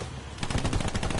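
A rapid burst of gunfire from a first-person shooter video game scoring a headshot, a quick run of sharp cracks, loud and close, with no talk.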